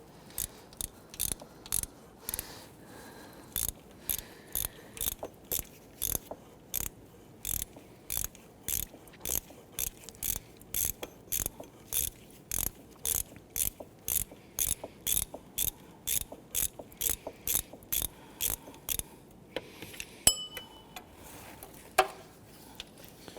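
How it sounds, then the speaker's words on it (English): A hand ratchet with a 14mm socket works an idler pulley bolt loose on a 1992-1996 Toyota Camry 2.2L four-cylinder. It makes a long run of crisp, regular clicking bursts, close and evenly paced, and ends with a few metallic clanks. "Using a 14mm socket to remove the bolt for that idler pulley."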